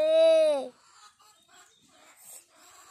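A chicken lets out a loud, drawn-out squawk, followed by softer scattered clucks and faint background sounds.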